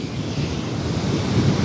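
Strong ocean waves surge and wash steadily along a shore, a loud continuous roar with rumbling low surf, buffeted by wind on the microphone and no talking.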